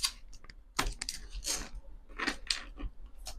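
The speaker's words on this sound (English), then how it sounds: "going to shuffle a little differently." Tarot cards being shuffled by hand, heard as quiet, close, irregular riffling and tapping of card stock in scattered bursts with brief pauses.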